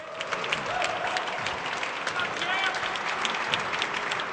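A large crowd applauds steadily and loudly after a professional racquetball rally at a semifinal match in Los Angeles, the clapping dense and sustained throughout without any voices.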